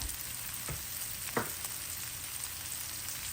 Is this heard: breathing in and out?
no